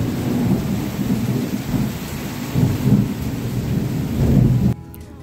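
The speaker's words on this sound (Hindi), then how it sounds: "तो बाहर जोरों की बारिश शुरू हो गई है" Heavy rain pours outside with rolling thunder, a dense continuous hiss with low rumbles swelling and fading several times, ending abruptly after nearly five seconds.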